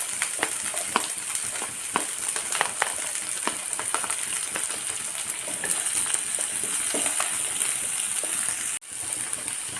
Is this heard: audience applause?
no